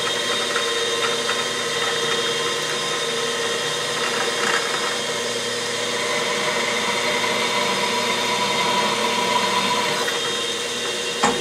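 A Walker Turner drill press motor hums steadily with a constant whirring drone in a machine shop, close and fairly loud, with no voices.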